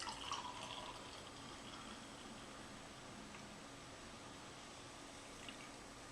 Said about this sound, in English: let's pour this guy in.